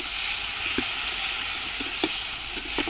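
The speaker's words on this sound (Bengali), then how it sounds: "লাল লাল করে হালকা হালকা ভেজে নেব।" Spice paste with tomato fries in oil for a Bengali fish curry, a loud steady sizzle broken by a few quick spatula scrapes and taps near the end.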